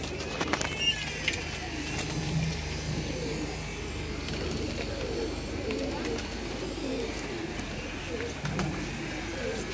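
Pigeons being parceled for cargo shipment, cooing softly in repeated low murmurs amid a busy ambient background with occasional clicks and faint voices.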